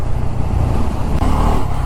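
A Bajaj Pulsar F250 motorcycle engine runs while riding, a loud, close, steady low drone with wind rush and a slight rise toward the end, no talk.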